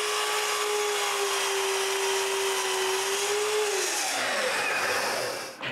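A power saw cuts through a wooden piece at a 45-degree angle, a loud steady whine running for several seconds before the pitch drops as the blade winds down and stops.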